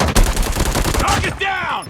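Rapid shotgun blasts on automatic fire in a video game, a loud dense burst of booming shots up close that ends in a ringing metallic tail.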